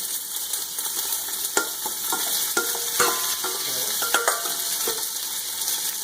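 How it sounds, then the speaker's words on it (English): Sausages fry in a hot pan for a sweet sausage and tomato pasta, a loud, steady sizzle with scattered pops and crackles and occasional clicks of the pan throughout. "So I'm going to start off with some sausages, a hot pan."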